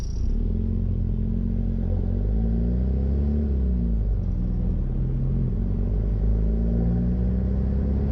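Land Rover Defender engine rumbling while driving in traffic, a low steady drone with gear and throttle shifts rising and falling, close and loud with no talk.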